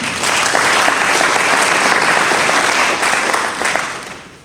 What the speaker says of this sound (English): A round of applause for all those that made the effort to actually be here.